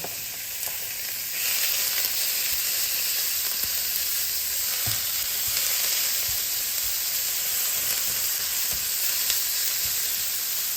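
Thin slices of chopped meat frying in a hot pan give a loud, steady sizzle with a constant hiss and a few faint scraping stirs, heard alone without speech.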